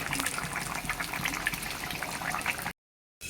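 Fish curry with drumsticks being poured into a bowl, a continuous liquid splashing gush at close range that ends abruptly near the close.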